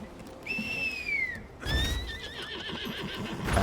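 A horse in the video game Lost Ark neighs twice, a clear rising-and-falling whinny followed by a longer wavering one, close and loud over a steady ambient game background.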